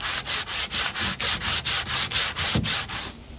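A spruce pole being smoothed by hand with sandpaper, end to end: steady rhythmic back-and-forth rasping strokes, about a dozen even passes, close and loud, with no talking.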